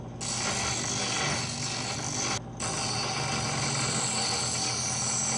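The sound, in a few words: grinding a steel knife blade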